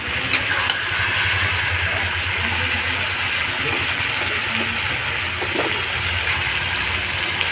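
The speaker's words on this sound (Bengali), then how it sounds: "চিকেনটাই মাত্র আমি কষাচ্ছি।" Chicken being stir-fried in oil in a wok with tomato, garlic and ginger for chicken kosha, giving a loud, dense, continuous sizzling hiss with occasional faint scrapes, close by and steady throughout, with no voices.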